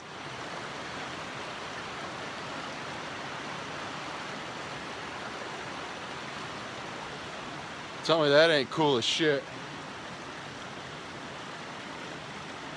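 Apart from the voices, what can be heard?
river flowing at night in Linville Gorge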